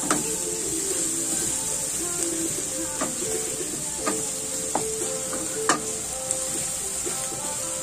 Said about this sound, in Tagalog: Isagisa muna natin.